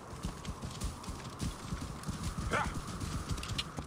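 Horse hooves clip-clop in Assassin's Creed Origins, a steady rhythmic trot of close hoofbeats, with a brief whinny-like cry partway through over a busy game background.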